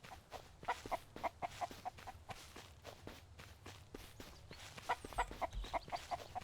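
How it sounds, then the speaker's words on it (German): A chicken in the survival game Mist Survival clucks in quick repeated bursts over steady footsteps on the ground, fairly faint but clear, with the clucks bunching together near the end. "Ich höre ein Huhn."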